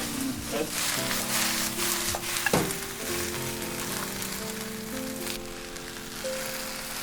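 Food for a family of five fries in a pan, a steady close crackling sizzle that runs through the whole stretch, with a few faint clinks and a soft hum underneath.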